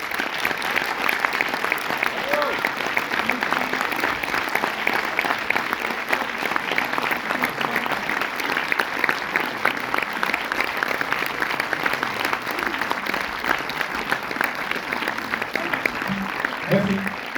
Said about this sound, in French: je vous demande de redoubler d'applaudissements